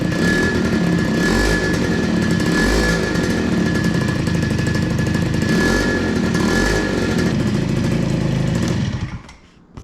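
A modified 50cc scooter engine idles loudly and steadily with a buzzy rattle, running close up for several seconds before cutting off near the end.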